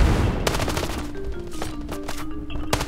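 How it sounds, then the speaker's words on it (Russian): Rapid bursts of automatic gunfire from the mobile shooter Standoff 2, loud and close, with rattling volleys separated by brief pauses. "Он префами стреляет?"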